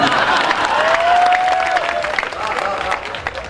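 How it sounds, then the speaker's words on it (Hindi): Audience clapping fills a Hindi comedy poetry gathering in Dewas, a dense, steady wash of applause with crowd noise, holding loud for several seconds before easing slightly toward the end. "आप ताली बजा रहे"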